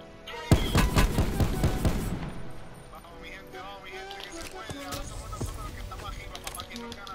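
A rapid burst of gunfire in Call of Duty: Black Ops 4 opens, followed by scattered single shots and game effects while a voice talks excitedly throughout.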